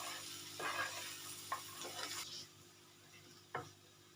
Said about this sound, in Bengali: দিয়ে এটাকে আমি ভালো করে মিক্স করে নিয়ে একটু আরও ভেজে নেব।